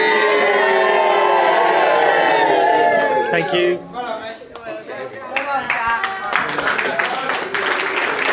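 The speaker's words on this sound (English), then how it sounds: "Big round of applause." Wedding guests break into applause and cheering after a speech, clapping loudly at first and then thinning into scattered claps and chatter, with a voice speaking briefly.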